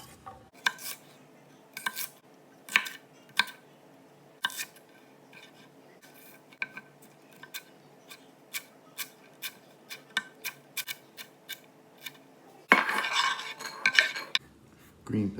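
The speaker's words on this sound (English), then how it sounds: "I'm going to cut up some celery." A knife chopping celery on a board in a home kitchen, sharp irregular taps spaced a second or so apart, then a louder rustling scrape near the end; close and alone, no talking.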